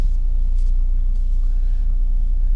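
Inside the cabin of a 2017 Volvo V60 Polestar, the engine produces a steady, loud low rumble with road drone at a constant level and no voices over it.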